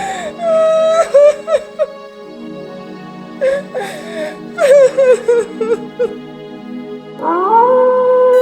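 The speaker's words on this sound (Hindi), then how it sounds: "के रोने की आवाज चारों तरफ गूंजने लगी" A woman wails and sobs in drawn-out, high, trembling cries broken by gasping pauses, loud and close.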